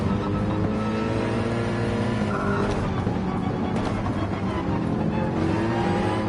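A race car's engine held in fourth gear in Gran Turismo 7, giving a loud, continuous, steady roar with slight pitch shifts and faint tire noise throughout.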